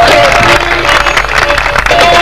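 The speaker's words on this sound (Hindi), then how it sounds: "आपकी जोरदार तालियां।" Loud, dense applause from a congregation at a revival crusade gathering, a continuous roar of many hands with crowd noise and some voices mixed in throughout.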